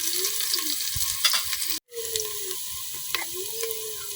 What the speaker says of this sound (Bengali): পেঁয়াজের সাথে সবকিছু কিছুক্ষণ ভাজা দিলাম।